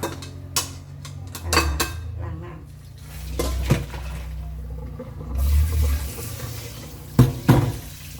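Food is rinsed in a colander under running water in a rustic home kitchen, with a steady splash and pour and several loud, close clanks of metal pots against each other.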